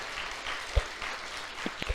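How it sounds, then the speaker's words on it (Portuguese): Scattered, fairly faint applause from a church congregation during a sermon, a soft diffuse patter with a few sharper claps standing out. "Aplauda o Senhor mais uma vez."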